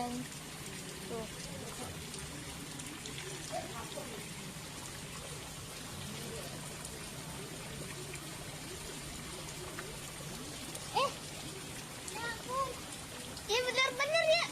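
Steady rain falls during a major flood in Jakarta, a constant even hiss that lasts the whole time, with people talking nearby toward the end.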